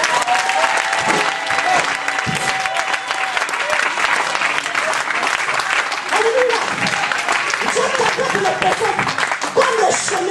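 A church congregation breaks into loud, sustained applause and acclamation, a dense wash of many hands clapping with cheering voices mixed in, steady for about ten seconds.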